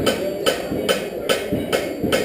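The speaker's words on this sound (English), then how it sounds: "I'll use the corner of my hammer" Steady, evenly spaced hammer blows ringing on hot metal at a forge, about two per second, loud and close against a constant background roar.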